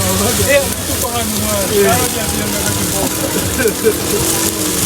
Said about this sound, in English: So I'm going to put some eggs on the frying pan.